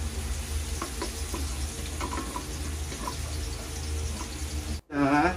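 Cabbage and other vegetables for ginisang repolyo fry in a pan with a close, steady sizzle and occasional stirring clinks, then a brief different clatter at the very end.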